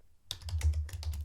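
Quick bursts of typing on a computer keyboard while writing Java code, close and clear with an irregular patter of keystrokes and no voices.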